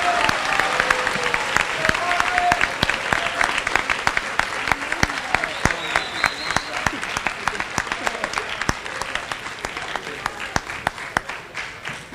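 Sustained applause from an audience at a school awards assembly, steady clapping filling the room for several seconds as students are called to the stage, with some voices mixed in.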